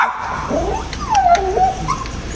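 A dog on a park walk whimpers on seeing another dog, with a series of high, wavering whines and small yips close by against quiet outdoor background.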